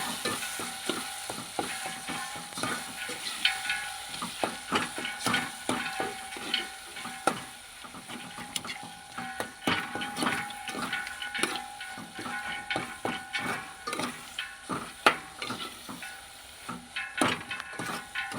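Spiced masala for fire-roasted eggplant bharta being stirred in a pan, a continuous soft sizzle with repeated scraping and clinking strokes at a fairly quiet level, without speech.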